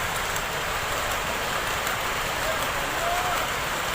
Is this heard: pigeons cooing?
no